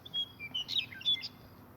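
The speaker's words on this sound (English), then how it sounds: "Be quiet, bird." A pet bird chirps indoors with a handful of quick, thin, high tweets in a short burst, fairly faint but clear over a quiet room.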